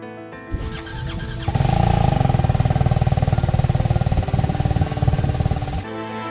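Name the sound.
motorcycle engine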